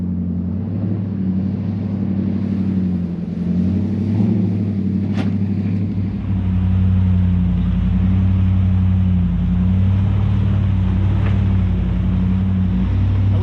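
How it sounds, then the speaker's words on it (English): A Dodge Ram 1500 pickup's V8 engine idling on an off-road jeep trail, a steady deep rumble with a low throbbing hum that swells slightly louder midway, continuous and close. "It's part of the therapy to me to just listen to this little V8 run."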